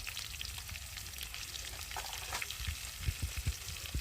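Potatoes frying in a pan until reddish-brown, a close, busy sizzle with soft crackles, and a run of low spatula knocks and scrapes toward the end.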